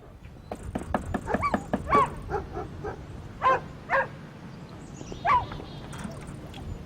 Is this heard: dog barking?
yes